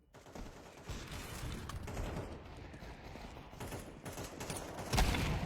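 Rapid bursts of handgun fire crackle through a Counter-Strike 2 match, several shots scattered across the few seconds amid background game noise, moderately loud and no voices on top.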